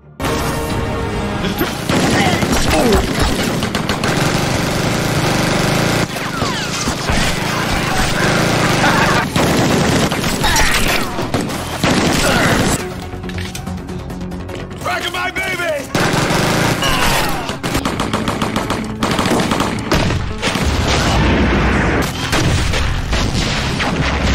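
Gunfire from a film's fierce shootout with SWAT troops in a prison yard, a dense, loud, continuous barrage of shots and booms layered over a dramatic soundtrack, with a brief lull midway before the firing resumes.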